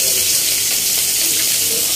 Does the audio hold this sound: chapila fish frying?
yes